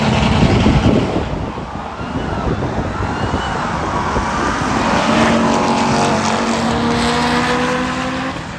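A Honda K20-powered import drag car makes a full pass down a Texas drag strip, its engine roaring loudly and steadily as it pulls away, with rising gear tones fading slightly over the run and no talk.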